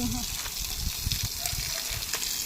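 A village water tap left running gushes steadily into a filling tank, a continuous close splashing rush with faint voices in the background.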